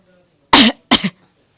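Two loud, close coughs in quick succession from a man playing an old man in a student stage skit, harsh and throaty, with near silence around them.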